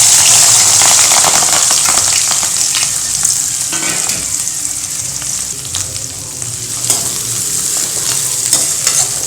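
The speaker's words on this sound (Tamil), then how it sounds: "எண்ணெய் காஞ்சிருச்சு, அதில் பச்சை மிளகாய் வெங்காயம் 2 சேர்த்துடலாம்" Green chilies and onions sizzle and crackle in hot oil for a dry fish curry, a loud, continuous hiss with occasional stirring scrapes and no speech.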